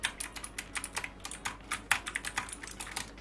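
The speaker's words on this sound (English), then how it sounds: "It's a mechanical keyboard from Abcore" Rapid clicky keystrokes on an Abcore mechanical keyboard, an irregular stream of sharp taps, close and fairly quiet.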